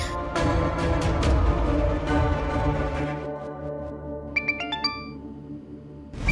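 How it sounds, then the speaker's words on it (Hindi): A mobile phone ringtone plays a bright electronic melody, then a quick run of high chiming tones repeats before it cuts off, in a TV drama scene. "तुम्हारे भैया का फोन है।"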